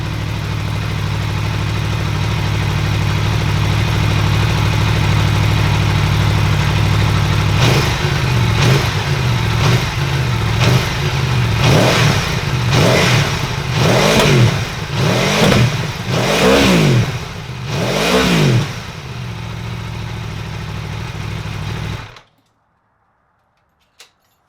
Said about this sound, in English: Seriously, that bike is so sexy. Even with a stock exhaust, it sounds so damn good.